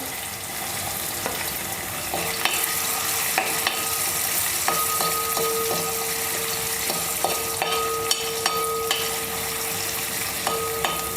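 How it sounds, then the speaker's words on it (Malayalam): Ginger and garlic sizzle steadily in hot oil in a pan while making chilli chicken, with a continuous close frying hiss and a few faint scrapes of stirring scattered throughout. "കറി റെഡിയാക്കാം അപ്പോൾ ഇഞ്ചി ഇട്ട് കൊടുക്കാം വെളുത്തുള്ളി ഇട്ട് കൊടുക്കാം"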